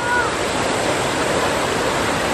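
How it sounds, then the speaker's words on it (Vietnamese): Steady roar of the Hieu waterfall during the dry, low-water season, an unbroken wash of falling water heard close up. "Thác Hiêu thì rất dài"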